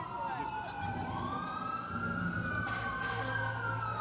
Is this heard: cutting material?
no